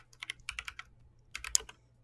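Rapid clacky keystrokes on a mechanical keyboard, two short bursts of typing separated by a pause, close and crisp.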